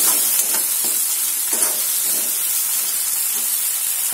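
Coriander leaves fry in a hot tempering for sabudana khichdi, giving a continuous, even sizzling hiss with faint stirring clicks.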